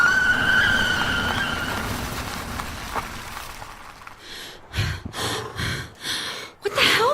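A car swerves sharply on a road to avoid a man standing in it: a rushing engine and road roar fades, then a series of abrupt bursts and a gasp close by.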